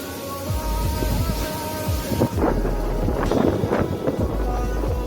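Strong wind roars and buffets steadily against the microphone, loud and continuous throughout.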